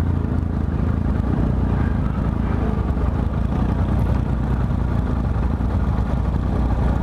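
Steady, loud engine rumble of motorcycles riding close by in Serra Negra, Brazil, a continuous roar with no pauses.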